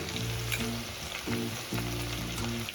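Tomato and slit green chili frying in a pan: a close, steady sizzle and crackle overlaid with a low humming tone that cuts in and out in short repeated stretches.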